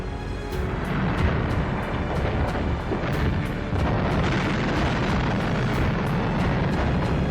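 German artillery batteries firing in wartime, a loud, continuous roar of heavy rumbling with a series of sharp booms and cracks repeating over it.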